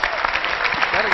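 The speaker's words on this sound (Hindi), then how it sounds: "जोरदार तालियां" Applause from an audience greeting the first Land Cruiser in Pakistan, a steady dense patter of clapping under an excited voice.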